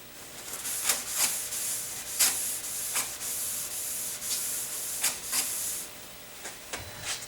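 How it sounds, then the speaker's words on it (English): A cloth wiping over the surface of a high power model rocket booster section to clear fingerprint oils and dust before priming, heard as repeated soft rubbing swipes that come back in an uneven rhythm, close by and fairly quiet, with no talking. "I'm going to wipe it down one more time just to get rid of all the fingerprint oils"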